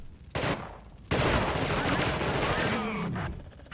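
Gunfire in The Thing video game: a brief burst of shots followed by a longer, dense volley of rapid firing lasting a couple of seconds, loud and close, with voices mixed in.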